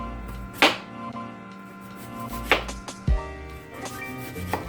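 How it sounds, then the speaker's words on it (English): A knife slices through red onion on a cutting board, giving three or four separate crisp cuts spaced a couple of seconds apart, each a short sharp chop heard alone against a quiet kitchen background. "I'm gonna slice up some red onion here"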